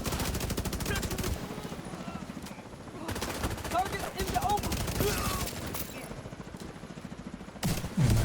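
Dense automatic gunfire from a shooter video game, a steady rapid rattle of shots with brief pauses and a heavier blast near the end, loud and close throughout.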